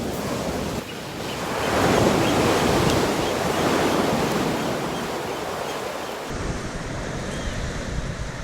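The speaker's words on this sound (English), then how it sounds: "These waves are getting quite dramatic." Ocean waves crash and roar onto an Icelandic black sand beach on the south shore in a loud, continuous wash of surf, swelling and receding, with wind buffeting the microphone.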